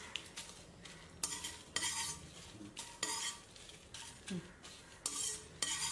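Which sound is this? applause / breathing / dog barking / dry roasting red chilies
dry roasting red chilies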